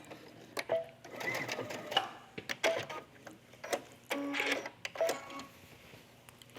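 A sewing machine stitches a tunic placket down to the corner in uneven bursts, its needle clatter starting and stopping in short runs, close and fairly quiet, with no talk.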